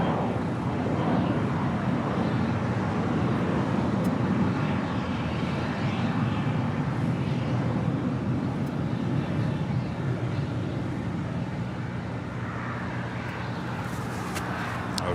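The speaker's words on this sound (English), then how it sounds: "Coming in from San Antonio, Texas, Delta Airlines Flight 1043 on this A319." A Delta Airlines A319 arriving at LAX from San Antonio gives a steady, continuous jet roar that holds at an even loudness throughout, broad and fairly close, with no voices over it.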